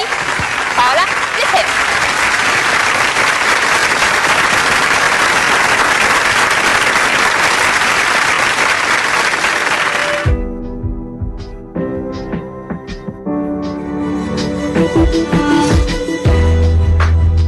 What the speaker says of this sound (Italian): Adesso un bel applauso dal nostro pubblico.